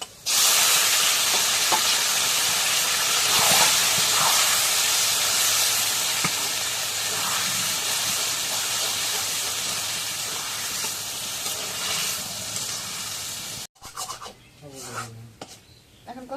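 Chopped garlic and onion frying in a pan for a Bengali dish, a loud continuous sizzle and hiss with occasional stirring scrapes, ending abruptly before a quieter stretch of other sounds.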